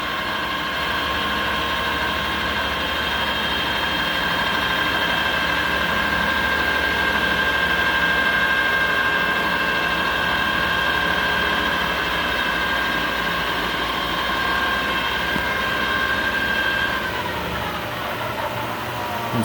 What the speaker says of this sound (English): you'll hear the spindle speed up.